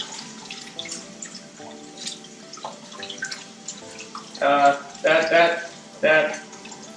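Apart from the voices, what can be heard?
washing hands under running tap water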